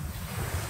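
Ocean waves wash onto a beach in the early morning, a steady close rush of surf with some wind noise in a brief stretch.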